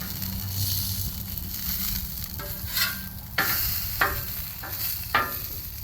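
Pork chops frying in a pan with a steady sizzle, broken by several sharp bursts of louder spitting and crackling as the meat is stirred or shifted, with no talking.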